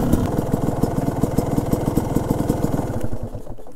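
A GasGas 300 two-stroke supermoto motorcycle engine runs close by with a rapid, rhythmic popping beat, loud and steady before easing off near the end.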